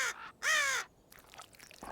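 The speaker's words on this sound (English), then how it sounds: "Must be nice to be a raven." Two harsh raven caws in quick succession, loud and close, the second longer than the first, followed by quieter rustling ambience.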